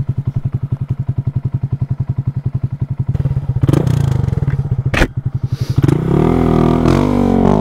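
A Honda Grom motorcycle idles with an even, close putter, then revs and pulls away into a louder, rising engine drone with a couple of sharp thumps, and nobody speaks.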